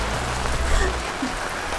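Steady rain patters down, a dense continuous hiss of drops on a surface, fairly close, with faint murmuring underneath.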